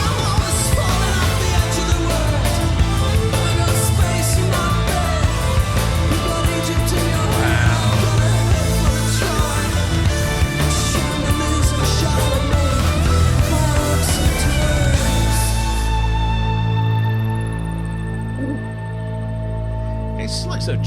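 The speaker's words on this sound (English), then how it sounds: "This is the sound of a band firing on all cylinders." Full rock band music from an album, dense and loud with drums, bass and layered guitars and keyboards, thinning into a sustained ringing chord near the end.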